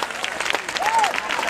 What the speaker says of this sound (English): Why don't you clap your hands and say us?